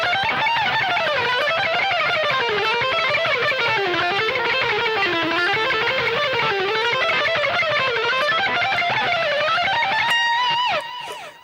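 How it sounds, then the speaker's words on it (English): Fast, continuous alternate-picked guitar run in G Dorian, notes flowing up and down in an unbroken stream, with a distorted tone, played solo, ending on a final ringing note. "I'm going to use this G Dorian for this, and it sounds like this."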